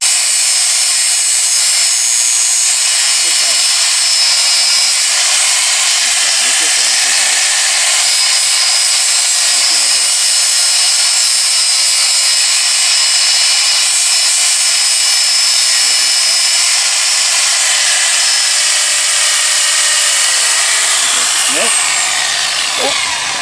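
An angle grinder's wheel grinds metal at a scout welding merit badge camp, a loud, continuous high-pitched roar running steadily throughout, with faint voices in the background.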